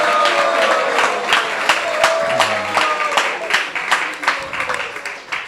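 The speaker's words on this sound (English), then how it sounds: "So please give another big round of applause in our ISB style." Steady applause from a crowd, dense clapping sustained throughout with a few sharper claps standing out, fairly loud and close.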